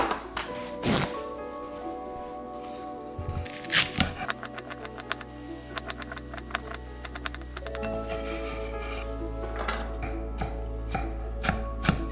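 Knife chopping onion on a cutting board in a home kitchen, with bursts of quick, evenly spaced chops near and loud, set against a steady low hum and some scattered clatter, with no talking.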